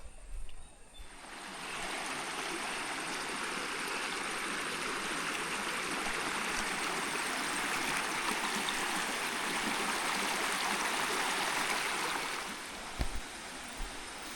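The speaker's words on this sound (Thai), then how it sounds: "นี่ก็คือลำน้ำกระติ้น" The Kratin stream in rural Thailand gives off a steady, broad rush of flowing water that swells in after a moment and holds evenly, fairly close and loud, before easing near the end.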